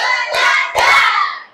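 Fifth-grade pupils in an Islamic religious education lesson clap together in a quick pair of loud, close claps. Children's voices chant throughout.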